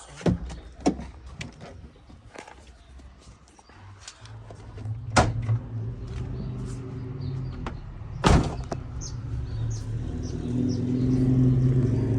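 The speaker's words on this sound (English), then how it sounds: "So let me open the bonnet." Bonnet of an MK3 Jetta being opened while the hot engine idles with a low steady rumble, marked by two sharp, loud clunks of the latch and hood a few seconds apart and some lighter handling knocks early on.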